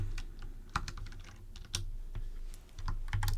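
Fingers tap quickly on a computer keyboard while CSS styles are entered, a close, continuous run of crisp keystrokes with short pauses between bursts.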